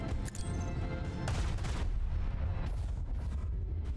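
Heavy cannon fire from a warship's port battery in a Warhammer 40K space combat game, a loud booming volley with rumbling blasts layered over a low sustained drone.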